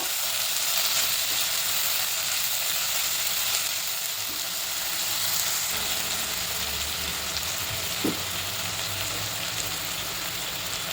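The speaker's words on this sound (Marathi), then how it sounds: "त्यातच थोडी कोथिंबीर पण टाकते. चांगला परतून घेते मऊ होईपर्यंत." Onion with tomato and coriander sautéing in a pan for a garlic spinach dal, a steady hiss of sizzling oil that runs throughout, with one brief utensil knock near the end.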